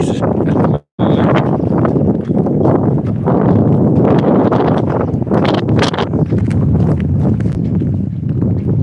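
Steady loud wind buffeting a microphone during a cold ride, a constant rumbling roar with one brief dropout near the start.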